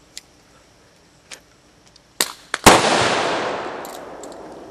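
An airsoft BFG 12-gauge launcher firing a grenade shell outdoors: a few faint clicks and handling ticks, then sharp cracks and one loud blast with a long hissing decay, close by.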